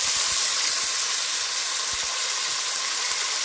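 Chicken breast dropped into 50 ml of hot sesame oil sears with a loud, steady broadband hiss and sizzle, with a few soft low thumps, close by and with no talk over it.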